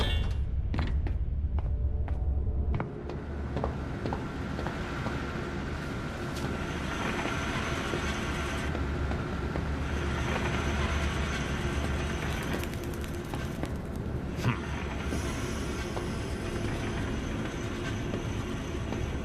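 A zoo train in the video game Zoochosis rolls steadily along its track, a continuous rumbling clatter of wheels and carriages with a few sharp clicks and squeals, loud and close throughout with no voices.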